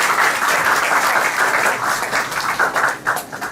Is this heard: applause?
yes